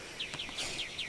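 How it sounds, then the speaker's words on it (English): A bird gives a string of about five short, high, repeated chirping calls in quick succession, fairly close and clear over quiet background, with no talking. "Most annoying bird I've ever heard."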